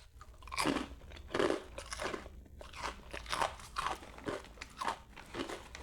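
Someone eating chicharon, crisp fried pork rinds, takes repeated loud, close crunching bites with chewing in between, in a steady rhythm of about one crunch per second.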